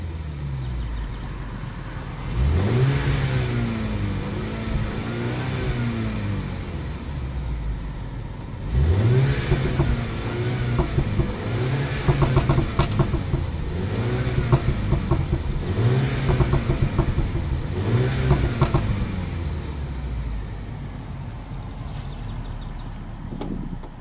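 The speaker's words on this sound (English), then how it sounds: "you can hear different sounds from the exhaust system." A Mini Cooper S engine revs repeatedly in sport mode, each rise in pitch followed by a drop, with a throaty exhaust note rumbling between bursts.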